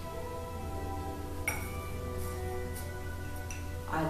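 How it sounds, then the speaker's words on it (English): Dry loose green tea leaves drop into a warmed glass cup, making a few faint, scattered crisp clinks and ticks over a low steady hum. "I love the sound of tea, dry tea touch the glass."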